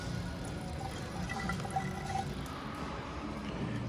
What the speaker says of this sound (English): let all the diesel fluid drain out